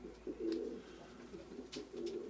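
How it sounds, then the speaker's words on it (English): Pigeons coo softly in the back of a car, a few low rounded calls repeating in uneven bursts, with faint chirpy ticks above and a steady quiet cabin hum underneath. "50 birds were still in the back of the car"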